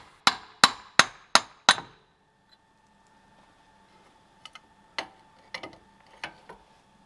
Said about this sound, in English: now we are going to completely hammer out the drive shaft from the hub